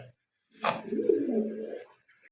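A single soft, close pigeon coo rolls out for about a second and a half at a pigeon farm, quiet and isolated against silence.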